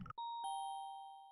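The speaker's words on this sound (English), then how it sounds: "Oh, it's the doorbell." A video game doorbell chimes once, a clean two-tone ding-dong that rings out clearly and fades slowly, following a brief burst of other sound.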